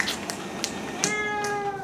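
A house cat in Chiang Mai, Thailand, gives a few short, close meows, with one clearer, drawn-out call near the middle, heard alone without talk.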